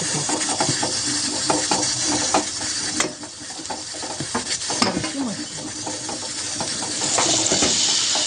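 Jowar rice simmering with salt and a little water in a pot on the stove, a steady close hiss and sizzle with scattered bubbling pops and occasional stirring scrapes, no voices.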